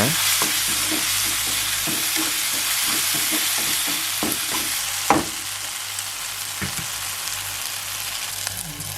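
Ridge gourd peel chutney ingredients sizzle steadily in a hot pan while a utensil scrapes and taps through them in quick repeated strokes.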